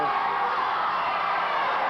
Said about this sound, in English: And the crowd again yelling fatso.